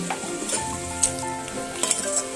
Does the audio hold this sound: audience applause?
no